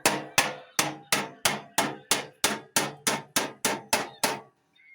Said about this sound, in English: Then I'll get a hammer, a ball peen hammer, and then I will flatten it.